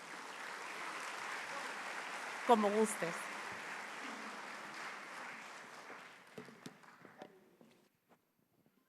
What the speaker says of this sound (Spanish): a quien recibimos con un fortísimo aplauso.